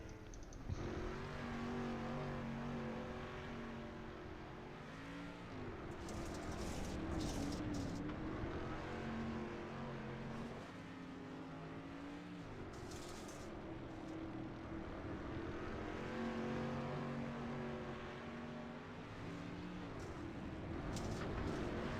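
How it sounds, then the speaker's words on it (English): Synthetic race car engine tones from an iRacing dirt street stock race rise and fall repeatedly as gears shift, a looping whine over a steady mechanical background, fairly quiet overall. "Sounds like another car is on track"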